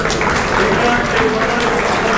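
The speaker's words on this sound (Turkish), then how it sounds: "Evet alkışlıyoruz" Dense, continuous crowd applause fills the air at a livestock festival in İnegöl, Bursa, after the results of a ram competition, with voices mixed into the steady clatter.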